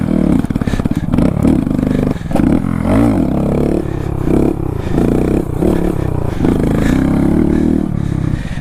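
A Grom motorcycle fitted with a stunt bar revs hard during street stunting, its loud, choppy engine rising and falling in bursts with scraping clatter, close and continuous.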